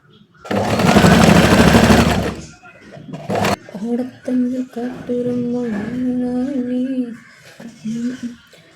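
A domestic sewing machine whirs in a loud, steady run of stitching for about two seconds, then stops with a couple of clicks before someone talks at length.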